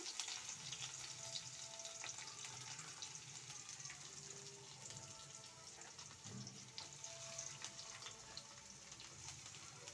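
Onions frying in a pan while being stirred, a faint, steady hiss of sizzling oil with occasional soft stirring sounds, distant and low throughout.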